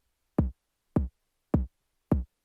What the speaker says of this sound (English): So the kick sounds like this in his track.